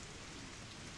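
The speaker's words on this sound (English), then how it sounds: "The rain still hasn't let up." Steady rain falls in the Suikoden video game, a dense even hiss of drops with no break and no voices.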